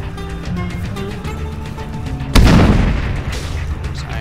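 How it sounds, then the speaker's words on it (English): A single loud, close explosion in the Arma 3 military shooter booms partway through, a sharp broadband blast decaying into rumble over steady background game noise, with players' voices around it. "What was that explosion I just saw?"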